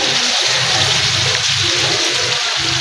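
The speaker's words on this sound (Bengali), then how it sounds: "এগুলো সব এখন ধুয়ে ফেলবো, যেগুলো বের হলো শাড়ি পাতি।" Water runs steadily and loudly, as from a tap, while saris are being washed, making a continuous close rushing gush with faint splashing underneath.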